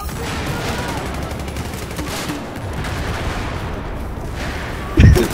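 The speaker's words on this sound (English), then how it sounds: "Oh my god, there's so many explosions." Dense, continuous rattling gunfire and distant booms in the video game Battlefield 4 roll on without pause, ending with a sudden close, heavy blast.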